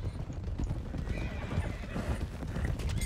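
Steady clip-clop of horse hooves with a stallion whinnying in Red Dead Redemption 2 over a busy low rumble, close and fairly loud throughout.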